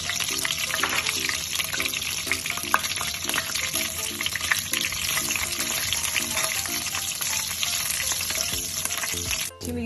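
Semolina for suji halwa fries in a pan with a continuous close sizzle, while a spoon stirs it in a steady, repeated scraping rhythm, fairly loud and with no one talking.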